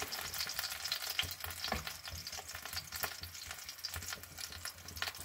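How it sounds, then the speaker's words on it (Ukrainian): Chicken legs frying in a pan for diet chicken with rice and zucchini, a steady close crackling sizzle with scattered pops and spits, no talking. "Приблизно обсмажую курочку 10-15 хвилин."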